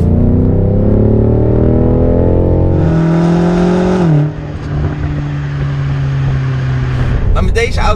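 Engine of a BMW M5 Competition with a loud, steady multi-harmonic drone that drops in pitch partway through and settles into a lower, even note, close and continuous for the whole span.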